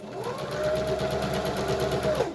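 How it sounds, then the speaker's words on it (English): A sewing machine stitches a fabric hospital mask in one steady, close mechanical whir that runs a couple of seconds, with no voices. "And now I'm just going to start sewing."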